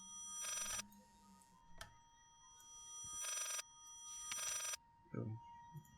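A telephone rings in the Layers of Fear video game with three long electronic bursts of ringing, each close to a second long and separated by pauses. A brief low thud and a short faint voice sound come between them.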